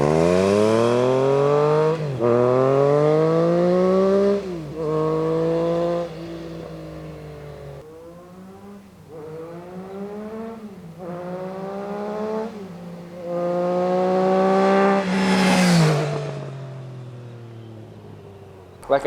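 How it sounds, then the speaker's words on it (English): A Triumph Trident 660 three-cylinder motorcycle engine revs up and down repeatedly, rising and falling pitch with downshifts and engine braking, loud and close with a turbo-like whistle at the end. "It just sounds so good, especially when downshifting or engine braking. It just has a whistle, almost like a turbocharger on a car."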